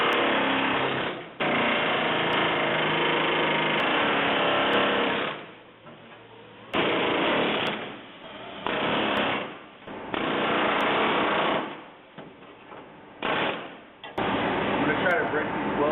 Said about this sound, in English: Break these welds free with the chisel.